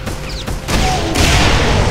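A grenade blows up in BrutalDoom running on GZDoom, classic Doom: a rough burst lands mid-clip, then a louder, sustained roaring blast takes over and fills the rest amid loud game noise.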